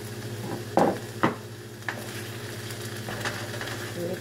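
A four-cheese ragu sauce is stirred into sautéed chicken and vegetables in a pan, giving quiet sizzling with a few scraping stirs and soft clinks of a utensil.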